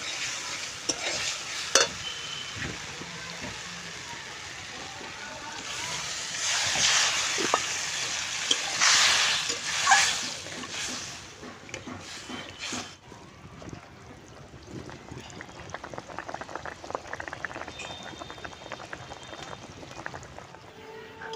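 Water poured into a pan of spiced potato and pea curry for a Bengali tangra fish jhal, followed by steady stirring and a bubbling sizzle, close and continuous with occasional clinks of a utensil against the pot.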